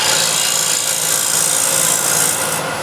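Steady, continuous rasping scrape of a standard bowl scraper cutting wood on a lathe, applied with a light touch, close and loud with no talk.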